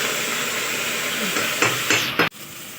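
Washing water poured into a hot pan of curry, setting off a loud, steady hissing sizzle that swells with a couple of sharper bursts before cutting off abruptly.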